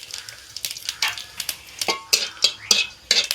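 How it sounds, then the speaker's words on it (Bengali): Whole cardamom pods and cumin seeds dropped into hot mustard oil crackle and pop in sharp, close bursts, with faint scraping of a spatula against the pan in between. "এর মধ্যে দিয়ে দিচ্ছি 2টো এলাচ ফাটিয়ে, আর দিয়ে দিচ্ছি কিছুটা গোটা জিরে।"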